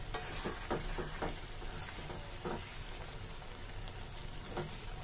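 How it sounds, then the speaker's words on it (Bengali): Green chili pickle stirred in a hot pan of oil, a soft continuous sizzle with scattered scraping spoon strokes, fairly quiet and close, no talking. "এখন ঢাকনাটা খুলে আমি আচারটাকে নেড়ে দিব।"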